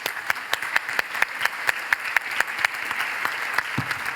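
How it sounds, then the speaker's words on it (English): Steady applause from a crowd, many hands clapping at an even pace for several seconds, moderately loud and a little distant. "please join me in giving them a very warm round of applause"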